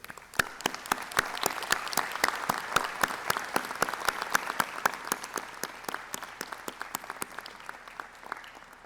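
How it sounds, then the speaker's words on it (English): Convocation audience applauds graduates' supporters, a long sustained round of clapping with distinct individual claps standing out near and far throughout, no voices on top. "So let's take a moment to give a round of applause for your supporters."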